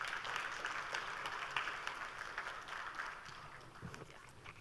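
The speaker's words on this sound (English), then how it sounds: "I think she deserves a stronger round of applause." A conference crowd at a DevOps gathering applauds speaker Amber, sustained clapping from many hands filling the room at moderate volume and slowly easing off.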